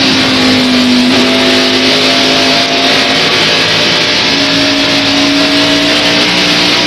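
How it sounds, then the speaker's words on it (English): NASCAR stock car engine roaring from inside the car during a lap at the 1993 TranSouth 500, a loud, continuous drone with pitch shifting as the car lifts and accelerates through the turns. "We'll take a lap with Rusty."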